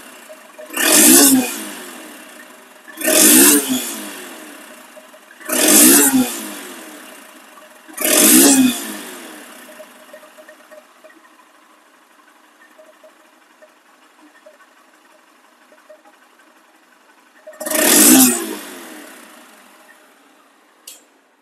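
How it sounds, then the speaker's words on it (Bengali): A used Honda X Blade motorcycle revs in short bursts: four quick throttle blips roughly every two and a half seconds, a long stretch of quiet idle, then one final rev, close and clear without speech. "বাইকটির সাউন্ড কিন্তু একদম স্মুথ সাউন্ড এবং শোরুম কন্ডিশন সাউন্ড"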